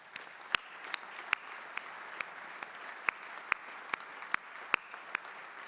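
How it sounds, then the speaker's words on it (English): Sparse, quiet applause from a small audience at a groundbreaking celebration for the Huntsman Cancer Institute cancer center in Vineyard, with distinct individual claps standing out over a soft continuous patter. "we need to give them a big round of applause"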